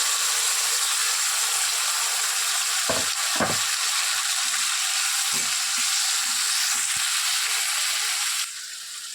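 Chopped tomatoes hit frying onions in a pan for a spiny gourd curry, giving a steady, loud sizzle and hiss with a few sharp crackles and spatters throughout, and no voices.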